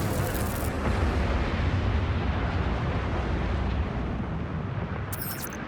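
Mortar launchers fire in The Surge 2, a loud, dense wall of rumbling blasts rolling continuously through the whole stretch, with brief sharper bursts at the very start and end.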